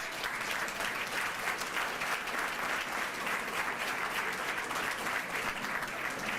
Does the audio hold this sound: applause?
yes